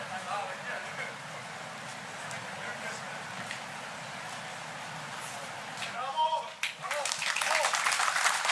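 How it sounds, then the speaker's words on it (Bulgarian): An audience applauds at a Bulgarian political event: soft, sustained clapping from a crowd, dense and steady, swelling louder and brighter near the end, with voices murmuring beneath. "Вижте сега как е ръкопляскат"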